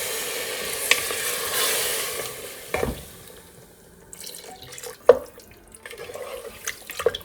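Water splashes into a pot of lamb curry with fried meat and masala, a pouring gush followed by sizzling and stirring clatter as the gravy begins, with sharp clinks of metal.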